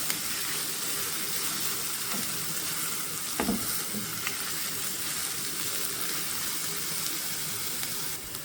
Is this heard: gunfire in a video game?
no